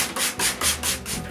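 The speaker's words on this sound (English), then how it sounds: "Each interior is then sanded smooth." Rhythmic back-and-forth sanding of the smoothed interior of a wooden mold, close and steady, with about six even strokes of abrasive rubbing on wood and no talk.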